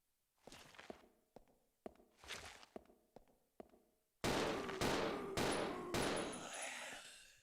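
Pistol gunshots in the video game Resident Evil Zero: a run of sharp shots, first a quieter spaced series, then louder close reports with ringing tails, roughly evenly spaced.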